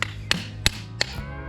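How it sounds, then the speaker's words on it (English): Four sharp metallic hammer strikes fitting a part into place during a swimming pool repair land at an even pace, close by, with a faint ringing after each blow. "hammer this in here a little bit"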